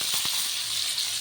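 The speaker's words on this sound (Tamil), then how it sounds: "மீன் வறுக்க வந்து ஸ்டார்ட் பண்ணிட்டாரு" Fish fries in a pan, giving a steady close hiss of sizzling oil with a couple of soft knocks near the start.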